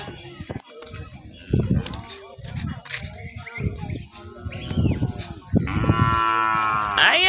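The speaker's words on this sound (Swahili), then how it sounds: "Aya, ng'ombe zaenda." Cattle in a Kenyan village low and moo repeatedly during morning grazing, several long, loud calls rising over the scene, with a person speaking between and under the moos.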